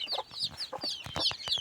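A broody hen with a large brood of chicks in winter gives close, repeated clucks mixed with high, rapid peeping from the chicks.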